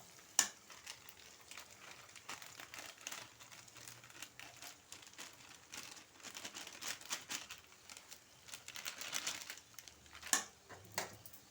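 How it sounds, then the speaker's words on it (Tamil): Coriander powder is stirred into duck gravy in a pressure cooker, making soft, faint scraping and sizzling sounds with irregular crackles and a few sharper clicks from utensil contact. "கொத்தமல்லி பொடி சேர்த்து ஒரு தொலவை தொலாவிக்கலாம்"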